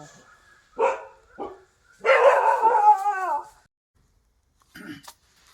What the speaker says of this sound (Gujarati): તેનો અવાજ આ કૂતરું છે